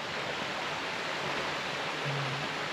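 Creek water near Jackson Falls rushes in a constant, broad, loud hiss on a below-freezing hiking day, unbroken and with no voices.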